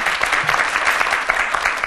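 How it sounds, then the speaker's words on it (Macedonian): An audience at a school event claps in steady, dense applause that stays loud and even for the whole short stretch. "Еден аплауз за нив, дека се најдобри."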